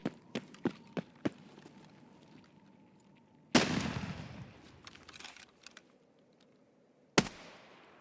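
Sharp gunshots in the Escape from Tarkov video game: several quick single shots early on, then a louder blast with a rumbling tail and a final crisp shot near the end, with no voices.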